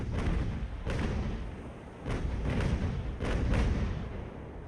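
Ship cannons firing in a naval battle in Ultimate Admiral: Age of Sail, several heavy booms arriving in ragged volleys about a second apart over a constant low rumble of sea and wind, fairly loud and close.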